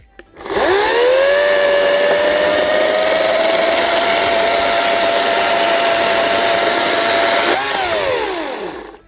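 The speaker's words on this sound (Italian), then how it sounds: "per farvi vedere in tempo reale come taglia questa motosega qui" An EGO CS1401E battery chainsaw with a 35 cm bar whines up, holds a steady high-pitched buzz for several seconds while cutting a log about 18 cm thick, then winds down; no voices.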